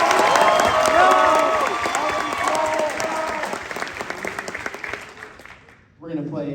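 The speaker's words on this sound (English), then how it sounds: "big round of applause for John Unziker" An audience at an evening jazz festival bursts into loud applause and cheering that fades over several seconds before a voice speaks over the tail end.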